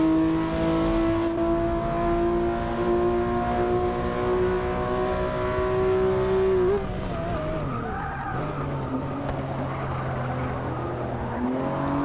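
A race car engine in Forza Motorsport 6 roars at high revs, holding steady, then drops off and climbs again through a corner, with some tyre skid noise, loud and continuous.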